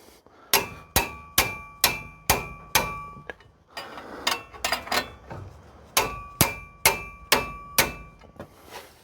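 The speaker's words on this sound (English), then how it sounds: "Then I'll just give them a bit of a tap with a hammer." Sharp metallic hammer taps on car wheel nuts ring out in quick rhythmic bursts of five or six strikes, each clang close and bright, with short pauses between groups.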